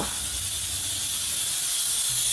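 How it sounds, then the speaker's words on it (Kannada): A pressure cooker on a stove, cooking ragi mudde and dal, hisses steadily and loudly throughout, a continuous steam whistle with no talk over it. "ಈ ಕಡೆ ವಿಸಿಲ್ ಬರ್ತಾ ಐತೆ ಒಂದು ವಿಸಿಲ್ ಬರ್ಕೊಂಡೆ ಸಾಕು"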